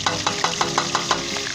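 Ginger garlic paste sizzles in about five cups of hot vegetable oil in a karahi, with a steady frying crackle and a regular rhythm of stirring scrapes, close by and with no voices.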